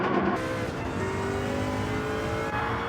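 Group C race cars roar as they accelerate out of a final corner in Gran Turismo 7, a loud, continuous engine howl climbing in pitch with layered cars close by, no voices.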